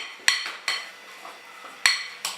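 A spoon knocking and scraping inside a bowl while potato salad is mixed with spices: four clear clinking taps at irregular intervals, with soft scraping between them, close and alone.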